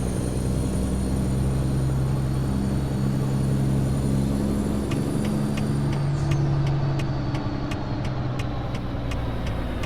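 A heavy truck engine drones steadily in American Truck Simulator, a constant low rumble with a faint high whine, later joined by a run of sharp regular clicks near the end.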